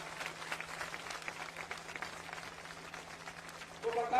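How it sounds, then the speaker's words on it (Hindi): A crowd at a political rally in Chandauli applauds steadily, a sustained wash of clapping at moderate distance that keeps going without pause and swells slightly at the very end. "आप लोग ताली तब तक बजाइए जब तक माला न पहना दे"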